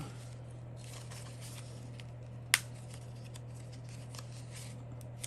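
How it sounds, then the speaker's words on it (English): Scissors pry at a staple in a small handmade book, producing one sharp, brief metallic click over a steady low hum, otherwise quiet. "I'm trying to take that staple out without messing up my little book. Or my scissors."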